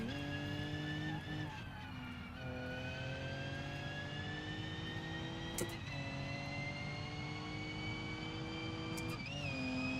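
A boosted engine in a racing video game, a loud, steady high-pitched whine and drone with rising tones and a few brief clicks, continuous throughout.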